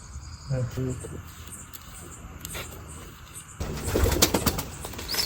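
Caged pigeons coo softly in short repeated calls, mixed with insect chirring and a rustling, louder burst of movement near the end; a voice briefly speaks.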